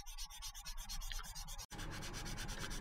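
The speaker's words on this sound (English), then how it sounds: "So that's okay to sand off now." Steady close sanding over dried sprue goo filler on the central fuselage join of an Airfix 1/48 Fairey Gannet model, a continuous gritty rasp with a brief pause before the strokes resume, slightly harsher.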